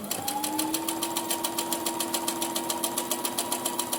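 A sewing machine stitches a fitted fabric face mask with pockets, giving a fast, even run of mechanical clicks over a steady motor hum, close and uninterrupted.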